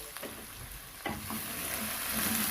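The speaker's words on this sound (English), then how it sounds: "in the same oil, I've added my tomato" Tomato dropped into hot oil left from earlier frying, sizzling loudly and steadily, with a sharp burst of spitting partway through as the pieces hit the pan and keep crackling.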